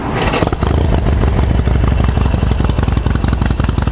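A Harley-Davidson Sportster 72 motorcycle, apparently on its factory exhaust, idles loudly close by with a rapid, lumpy, uneven throb that holds steady throughout.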